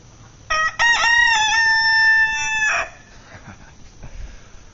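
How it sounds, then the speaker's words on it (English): A rooster crows once at a forest hostel, a loud close cock-a-doodle-doo lasting about two seconds with a rising start and held tone, then a quiet outdoor background. "Let's see if we can get Frank crowing."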